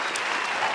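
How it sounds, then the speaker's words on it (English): Audience applause on a talk show, a steady dense wash of clapping at moderate level throughout the short stretch with no voices on top. "Round of applause."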